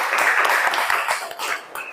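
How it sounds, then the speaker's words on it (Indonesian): Students clap their hands in a classroom, a steady, dense patter of many hands sustained for about two seconds, close and fairly loud. "Tepuk tangan untuk kalian semua."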